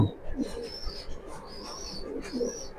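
Pigeons coo in soft repeated calls close by, with faint chirps and low background noise, no talking.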